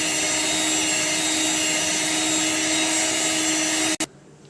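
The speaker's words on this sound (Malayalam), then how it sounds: "ഇത് നമുക്ക് നന്നായിട്ട് തന്നെ ഒന്ന് കറക്കിയിട്ട് ബീറ്റ് ചെയ്തിട്ടെടുക്കാം." An electric mixer whirring steadily as it beats eggs and sugar for a yellow velvet cake, a loud continuous motor drone that cuts off abruptly near the end, leaving quiet background.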